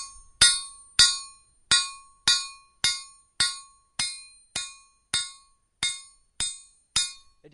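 A hammer strikes a hot railroad spike being forged into a knife: about a dozen sharp, ringing metallic blows land at an even, steady pace, each fading quickly, close and alone.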